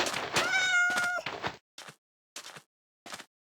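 A cat meows in the horror video game From the Fog: one long tonal meow with a clear harmonic wail, then three short, quieter mews spaced out with silence between them.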